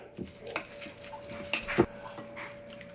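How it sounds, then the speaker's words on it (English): Vegan burger mixture seasoned with ketchup, salt, black pepper, seasoned salt and vinegar being mashed together in a bowl, giving faint soft squelches and a few light utensil knocks against the dish, quiet and scattered with no talking. "Now you want to mush all this together"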